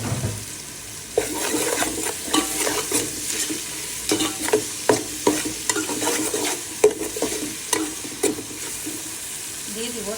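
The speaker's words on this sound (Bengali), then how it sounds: "পেঁয়াজটা হালকা ভেজে নিলাম" Onion, ginger and garlic fry in a pan with a continuous sizzle, broken by repeated scraping strokes of a spoon stirring them, close and moderately loud, with no voices.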